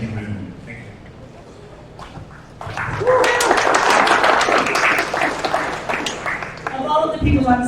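Audience at an economics conference panel at Stony Brook University bursting into applause, a loud wash of clapping that swells for several seconds after a quieter lead-in with talk.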